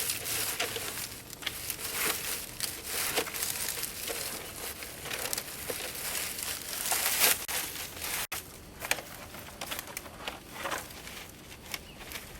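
Plastic packaging from a composting bin is unwrapped close by with irregular crinkling and rustling. The crackles come in fits and starts and grow sparser toward the end.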